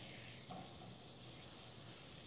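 Garlic frying in oil in a pot for a curry chicken dish, a faint steady sizzle and crackle with no talk.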